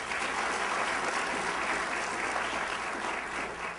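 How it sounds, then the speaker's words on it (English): An audience at an MLK Day of Service event in Atlanta gives a sustained round of applause, a dense steady roar of many hands clapping that tapers slightly near the end, with no talk. "Ms. Brenda Rhodes, give her a round of applause."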